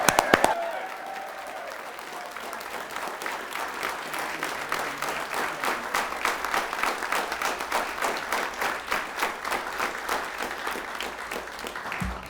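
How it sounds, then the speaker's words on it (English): Crowd applauding World War II veterans at an appreciation ceremony, a long steady roll of clapping that swells and holds after a brief spoken call. "Let's just give one big, loud, rousing cheer for our World War II veterans."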